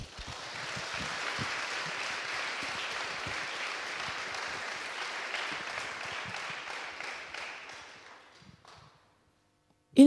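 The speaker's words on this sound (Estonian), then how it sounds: "nad väärivad veel ühte aplausi" An audience claps for about eight seconds at a charity concert, a broad, even wash of hands that thins to scattered claps and stops into silence.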